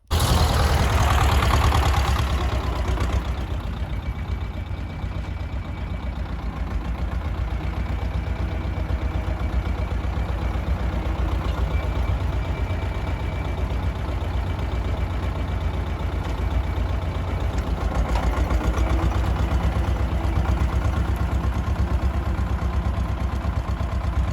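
A T-25 tractor engine runs steadily while digging potatoes with a potato digger, a continuous close mechanical drone that stays at an even level throughout.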